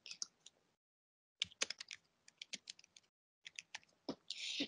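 Bursts of quick, crisp keystrokes on a computer keyboard, close and fairly quiet, in irregular clusters separated by short pauses, with no voices.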